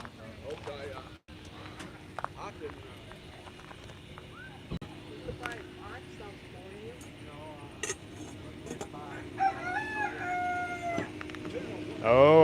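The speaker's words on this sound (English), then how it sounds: "Yes, there's a rooster in the back of that." A rooster crows toward the end, a rising harmonic call heard over the chatter and bustle of a country Labor Day flea market, with people talking close by throughout.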